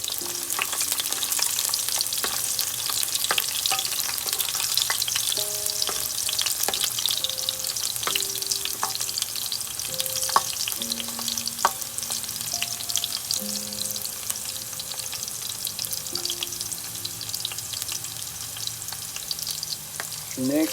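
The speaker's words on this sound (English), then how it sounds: "First ingredient you have to put is the garlic. And you have to wait until it becomes brown." Garlic sizzles and fries in a pan as the first step of pork adobo, a continuous crackling hiss with occasional stirring scrapes and faint tonal beeps scattered over the sizzle.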